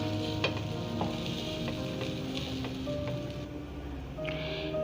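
Prawns fry in a kadhai with a continuous close sizzle and crackle, joined by occasional scraping stir sounds and faint background tones, no voices.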